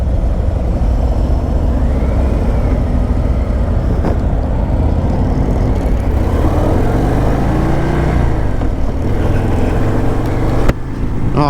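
A 2024 Harley-Davidson CVO motorcycle accelerates hard, a loud, steady engine roar whose pitch climbs and falls through gear changes, up close and continuous with no voices.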